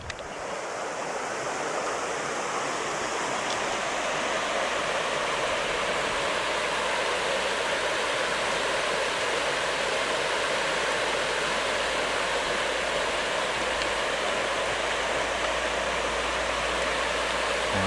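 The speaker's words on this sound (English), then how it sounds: "the sound of the river Swale, just near a village called Hula" The River Swale in Swaledale, flowing near a village by a bridge, gives a steady, close rushing roar of water that stays constant and loud throughout, with no voices.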